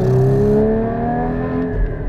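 A Porsche GT4 engine revs hard up close, a loud rising mechanical howl with strong harmonics that climbs steadily through the gears over about two seconds, no voices.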